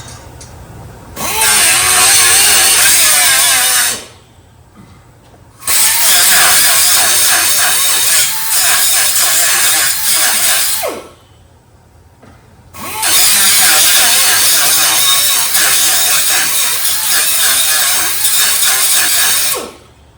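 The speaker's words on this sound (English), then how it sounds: "I'm just making a bunch of slots across the top of the rivet head" A power cutting tool grinds slots across the top of a rivet head during a Dodge D100 ladder bar install, running in three loud, harsh bursts of several seconds each with quiet pauses between them.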